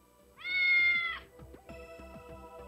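A cat stuck up a tree after a stray dog chased it, in a Japanese dating-simulation game, lets out one drawn-out, clear meow over gentle background music.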